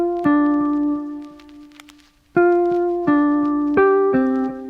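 An unprocessed guitar recording without compression, plucked notes and chords ringing out with uneven loudness, a long sustained note fading before a new run of strums, clear and close with no voices.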